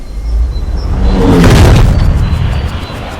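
A fiery golf drive in the Rory McIlroy PGA Tour video game on a 442-yard par 4: a loud, rumbling boom that swells and roars for a few seconds, like a burning ball tearing through the air.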